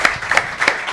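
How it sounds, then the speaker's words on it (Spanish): Audience at a Spanish book presentation clapping, a brief dense burst of applause close by with no voices. "Un aplauso"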